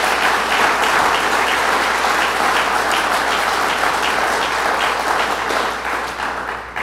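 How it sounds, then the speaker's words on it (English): A crowd at the opening of a rebuilt fire station in Upper Jay claps in sustained, dense applause that holds steady and loud throughout before easing slightly at the very end. "Let's give everyone a round of applause who worked on this."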